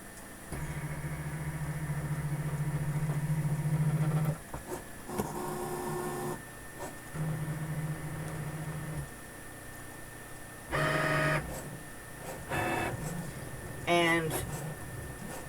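A Cricut machine cutting paper for a second pass, its motor whirring in bursts with a steady drone, pauses between carriage moves, and short higher mechanical whines near the end, heard fairly close with no talking.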